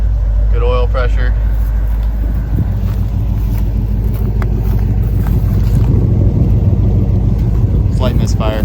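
A roughest square body Chevy truck idles with a slight misfire, a loud, steady, low engine rumble that runs throughout, with brief moments of talking near the start and the end.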